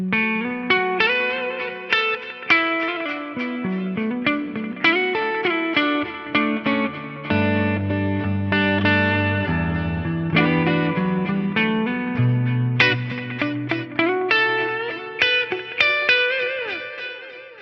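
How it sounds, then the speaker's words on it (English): Clean guitar notes through a Fractal FM3 with parallel delays and reverb ring out with layered echoes repeating behind them and a spacious reverb tail, a melodic line over a low sustained bass. "the delays are doing their thing, the reverb's doing their thing"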